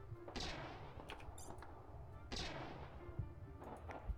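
Repeated gunfire from a unit shooting an enemy in the turn-based space strategy game Stardrive 2: two loud sharp bursts with crackling decay over a low rumbling bed, followed by a few lighter impacts.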